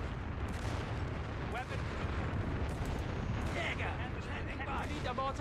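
Whiz bang rocket artillery fires in a Company of Heroes 3 battle, a dense continuous rumble of launches and blasts with whooshing streaks, heard at a distance under the game mix.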